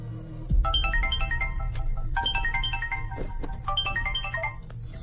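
A phone ringtone plays a repeating bright melodic pattern in several phrases, loud and close over a low background rumble, with no speech.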